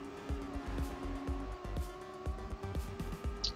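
Race cars in a video game drive across the finish line with a steady engine drone, a string of rhythmic thumps and brief tire squeals.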